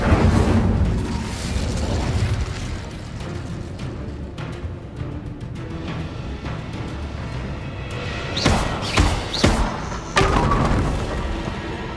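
Incendio fire spell blast in Hogwarts Legacy, a booming burst at the start followed by a dense rumbling roar with several sharp impacts later, all under steady game sound.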